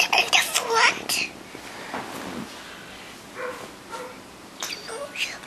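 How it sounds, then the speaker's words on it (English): A few small, sharp dog barks, some close together and one yelping, come in short bursts at home while a voice talks quietly in between. "The dog is barking."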